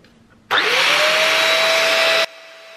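A Smarock S10 Pro vacuum cleaner switches on with a rising whine, runs loud and close with a steady high-pitched roar and tonal hum for under two seconds, then cuts off abruptly, leaving faint background hiss.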